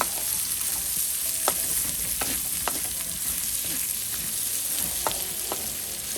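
Carrots and other pancit bihon ingredients sizzle steadily in a pan while a utensil stirs and scrapes, making short, bright strokes at irregular intervals over the constant frying hiss.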